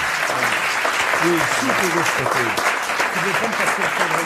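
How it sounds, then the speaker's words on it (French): A television studio audience breaks into dense, sustained applause throughout, steady and loud, with voices faintly audible beneath the clapping. "nous allons applaudir à cette très bonne question qui est restée sans réponse"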